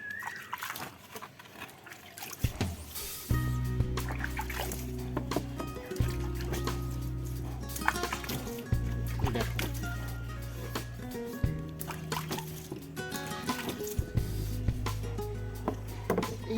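Water splashes and gurgles steadily as a bluecot screen-print screen is rinsed clean, with repeated surges and trickles close by.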